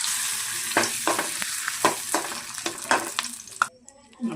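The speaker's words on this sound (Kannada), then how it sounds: "ಎಣ್ಣೆ ಕಾದಿದೆ ನೋಡಿ, ಎಷ್ಟು ಚೆನ್ನಾಗಿ ಬೀಳ್ತಾ ಇದೆ" Thin potato chips cut from a large potato drop into hot oil, making a bright continuous sizzle broken by about a dozen sharp splashes and scrapes before the frying noise suddenly fades near the end.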